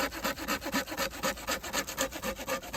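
A machete blade rasps back and forth over fatwood, scraping off sawdust in a quick, even rhythm of short strokes, close and fairly quiet with no talk.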